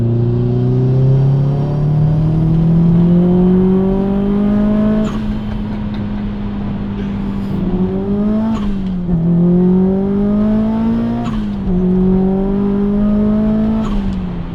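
A Subaru Impreza blobeye revving hard on a slippery, muddy road without traction control, the engine note climbing loud and close through several gear changes, with sharp shifts between rising pulls.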